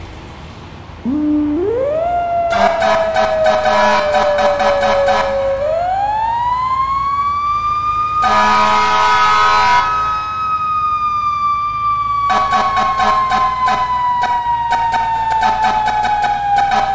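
A fire engine siren in the emergency-response game EmergeNYC wails loud and close, a rising and slowly falling tone broken by bursts of rapid yelping and horn blasts, with no talk over it.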